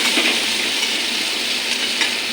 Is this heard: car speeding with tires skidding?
no